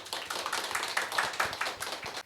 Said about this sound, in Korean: 멘토님에게 여러분 큰 박수 부탁드립니다.